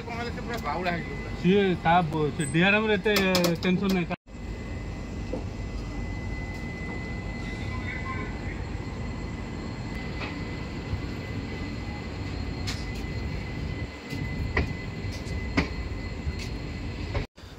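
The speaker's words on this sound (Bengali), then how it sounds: "পুরী শালিমার জগন্নাথ এক্সপ্রেস ছাড়লো পুরী স্টেশন থেকে" The Puri–Shalimar Jagannath Express pulls out of Puri station with a steady rumble and rattle of the rolling train heard from on board, after a voice at the start.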